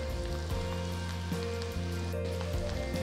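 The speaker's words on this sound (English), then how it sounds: "Once the mustard seeds start splattering" Mustard, cumin and fenugreek seeds sizzle in hot oil with a dense crackle and spatter under faint background music, with no talk.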